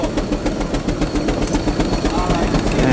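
A steam traction engine running at an agricultural show, a steady low rumble with a quick, even chuffing beat, close and fairly loud, with voices in the background.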